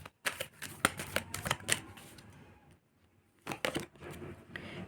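A deck of tarot cards is shuffled by hand in repeated crisp riffling bursts, close and clear, with a pause in the middle before the shuffling resumes.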